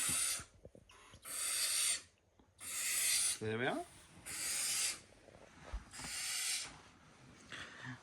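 Baby barn owl chicks give harsh, hissing screeches in several long bursts of about a second each, loud and close, with a short spoken remark between calls.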